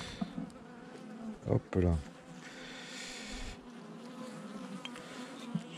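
Honeybees buzzing around a small swarm hive, a faint steady drone close by, with a short spoken exclamation and some handling noise over it.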